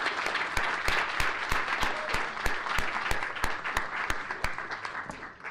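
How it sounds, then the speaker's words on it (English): A crowd applauds steadily at a youth anti-bullying press conference, dense clapping that holds at an even level for several seconds, with a few sharper claps standing out. "I'll give another round of applause for such great speakers."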